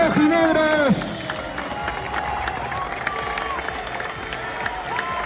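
Stadium crowd gives an ovation for FBC Melgar players, a broad roar of cheering and clapping that swells early then settles into a sustained din, with voices shouting through it.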